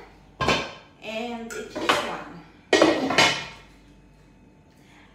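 Baccarat granite cookware from a six-piece cooking set being handled: several loud, close clanks and knocks of pots and pans in separate bursts, with a brief voice speaking between them.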